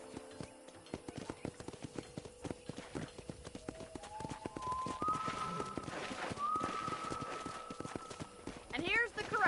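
Horses at a corral in the Red Dead Redemption video game clop their hooves in a steady, close rhythm, with game music tones and someone talking over them throughout.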